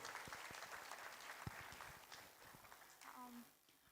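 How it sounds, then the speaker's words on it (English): Audience applause at a research excellence award ceremony, a fairly quiet, steady patter of many hands clapping that tapers off toward the end, with a few louder claps and brief voices near the finish. "Please welcome ma'am with a great round of applause."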